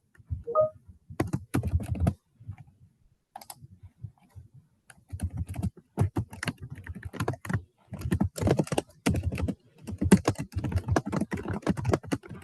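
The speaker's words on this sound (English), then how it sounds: "Somebody is typing ferociously" Computer keyboard typed on hard and fast over an open mic during an online webinar, bursts of dense clattering keystrokes with brief pauses, close and fairly loud, no talk.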